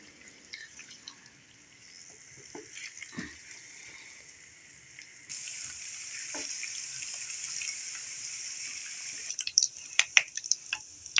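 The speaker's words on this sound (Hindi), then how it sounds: "ये हो गया ब्राउन, इसमें मैं टमाटर डाल रही हूँ।" Chopped tomatoes drop into a pan of browned garlic and ginger for a masoor dal recipe, and a soft sizzle jumps to a louder, steady frying hiss with scattered crackles and stirring clicks.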